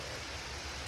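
Rain falls steadily in the woods, a soft, even hiss of drops on leaves and ground that stays faint and continuous with no voices.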